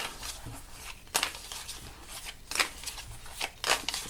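Tarot cards are shuffled by hand in repeated riffling bursts, crisp close flutters separated by short pauses, with no talking.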